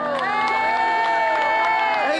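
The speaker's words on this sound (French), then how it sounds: "s'il vous plaît, un tonnerre d'applaudissements" An outdoor crowd at a cold street ball cheers and claps for a group of musicians playing oud, accordion and guitar, with steady, loud whoops and shouts mixed in over a sustained tonal backdrop.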